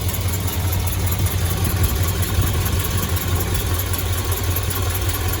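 A 1970s-era barn-find Dodge D100 pickup engine idles steadily after a carburetor adjustment, a close, continuous low rumble with even vibration and no voices.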